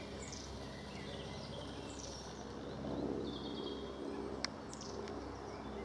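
A jay calls in woodland in the south of England, a few harsh calls standing out over a steady insect-like background hum and scattered chirps.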